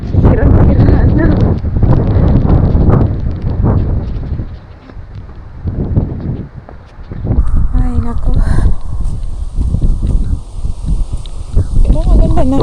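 Strong wind and rain buffet the microphone at Suomenlinna, gusting in loud bursts while someone talks over the roar.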